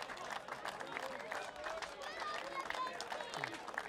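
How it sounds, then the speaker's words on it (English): Distant crowd applause at a local football ground, faint clapping and crowd noise under a commentator's steady talk. "They're applauding the supporters"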